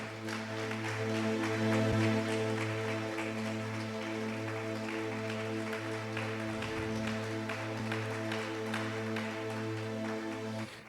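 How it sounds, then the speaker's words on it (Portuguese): A church congregation claps loudly and continuously over a sustained organ or keyboard chord. "E aplaude bem forte ao Senhor"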